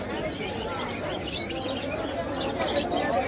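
Pigeons at the Jinjira pigeon market chirp and flutter faintly in a busy outdoor setting, mixed with people talking nearby.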